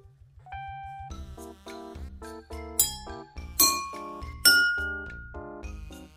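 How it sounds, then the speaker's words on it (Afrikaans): Glasses tapped with a teaspoon ring out in a series of bright clinks at different pitches, each strike leaving a sustained tone, loud and close with no talking. "Ek gaan met 'n lepeltjie ook tik, maar luister mooi na die verskil in die klank."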